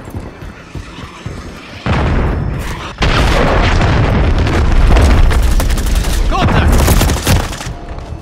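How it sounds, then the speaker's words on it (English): Heavy explosions and rapid gunfire from a Call of Duty MW3 Team Deathmatch match on the Bait map, with a cruise missile strike; dense, loud booms and bursts of fire run almost continuously, swelling sharply after a quieter opening. "Hostile cruise missile incoming. Taking fire! Hostiles launched a cruise missile."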